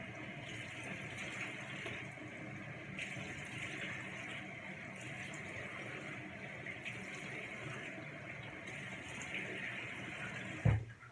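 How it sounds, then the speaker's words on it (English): Tap water running as a face is rinsed, a faint steady trickle and splash nearby, ending with a short louder knock or thump. "what I'm going to do now is rinse it off"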